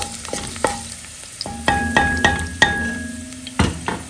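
Onion sautéing in a pan for a crab sotanghon soup, a close crackling sizzle punctuated by several sharp metallic clinks and scrapes of a spatula against the pan at an irregular pace, without speech.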